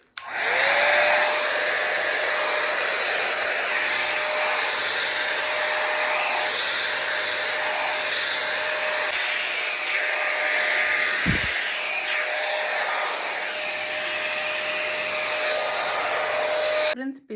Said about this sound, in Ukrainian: тепер попробую таку насадку. Я так розумію, що це просто розчоска, а воздух йде звідси.